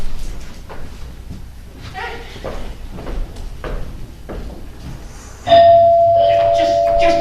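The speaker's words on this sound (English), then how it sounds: "I collect doorbells and your specimen has a specific tone quality" A doorbell rings loudly with a sustained electric tone near the end, after a stretch of footsteps and quiet room movement.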